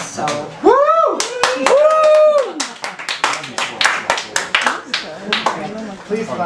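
Clapping from the crowd at an open mic poetry night, sharp individual hand claps building into a scattered rhythm, following a loud whoop and mixed with voices.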